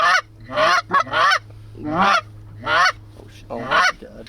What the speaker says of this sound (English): geese on the left